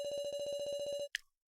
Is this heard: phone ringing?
yes